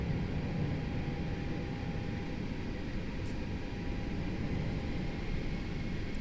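Airbus A320 jet engines in a flight simulator game roar steadily through a takeoff roll, a continuous loud broadband rumble with a faint high whine above it and no talk.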